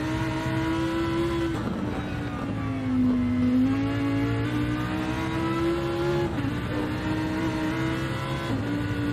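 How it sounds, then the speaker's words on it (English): A GT race car engine heard from inside the cockpit during qualifying at the 24 Hours of Spa, a loud continuous roar whose pitch rises and dips through gear changes and throttle lifts. "a little bit of those lovely engine noises coming out of the cockpit"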